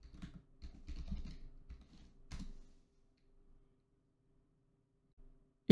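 Keys tapped on a computer keyboard to enter a terminal command, a brief close burst of soft clicks over about two and a half seconds, followed by near silence and a sharp knock at the very end.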